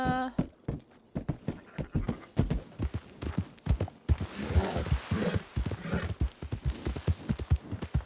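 Horse hooves clip-clop in Red Dead Redemption 2, a steady rhythmic walking gait of sharp, distinct hoofbeats that carries on through the whole stretch.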